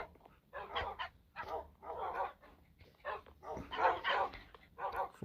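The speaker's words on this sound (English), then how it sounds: "Alright, I got 100 dogs here." A crowd of around a hundred tamed dogs in the Minecraft video game barks and yaps continuously, overlapping barks loud and close with no talking.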